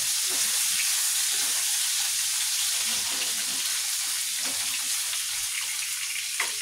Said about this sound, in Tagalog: Ngayon, haluin natin itong ating chicken.